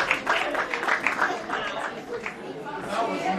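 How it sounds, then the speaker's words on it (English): Audience applause with cheering chatter at a community event, a steady wash of clapping mixed with crowd voices throughout. "let's give them a round of applause"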